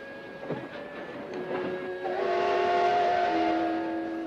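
A train pulling into a station, a rising rumble of wheels and carriages with a sustained tonal whine building and holding toward the end, moderately loud.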